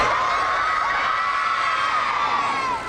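A large crowd of primary and secondary schoolchildren cheers and shrieks continuously for the netball World Cup champion Silver Ferns at Parliament, a loud, sustained wall of high-pitched voices that fades slightly at the end.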